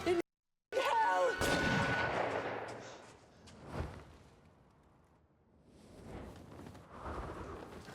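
A gunshot rings out in a Peaky Blinders TV episode as one sharp loud crack that is soon followed by a fainter bang and a tense, quieter scene with murmured voices.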